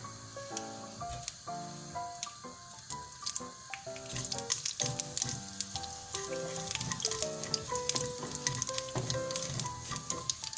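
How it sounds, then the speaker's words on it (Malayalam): Mustard seeds and a dried red chili sizzle and crackle in hot oil for a tempering for cashew theeyal, a continuous bright hiss with scattered pops under steady background music. "ഇനി നമുക്ക് ഇതിലേക്ക് അല്പം കടുക് വറുത്ത് ഒഴിക്കാം. നമുക്ക് ഒരു വറ്റൽമുളക്"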